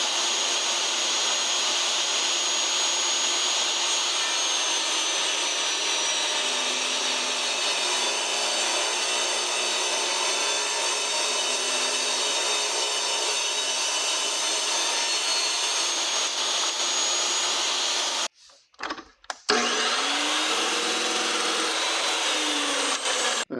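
A power tool cuts through a 1-inch-thick high density polyethylene sheet with a loud, steady, bright whine that runs almost unbroken, then cuts out and restarts near the end.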